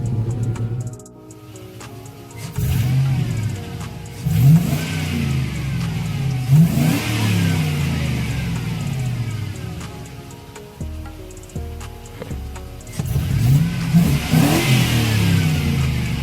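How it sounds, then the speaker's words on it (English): Chevrolet Avalanche engine revving through a MagnaFlow muffler exhaust, with repeated loud throttle blips rising and falling over a steady idle rumble, close by and with no talking. "It's got the MagnaFlow muffler."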